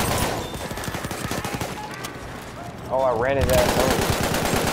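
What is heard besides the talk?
gun firing in the video game Battlefield 1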